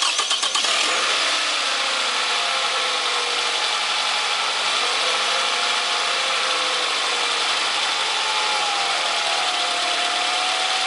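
A car engine cranks briefly and catches, then settles into a steady, loud idle that runs on evenly with no talk over it, during an air conditioning compressor check.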